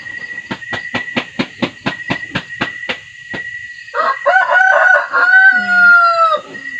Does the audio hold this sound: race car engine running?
no